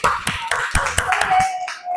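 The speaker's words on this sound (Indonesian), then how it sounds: "Tepuk tangan untuk kelompok" A handful of sharp, separate handclaps ring out in a classroom as students applaud group 1, sparse and uneven rather than a full ovation, fairly close and clear.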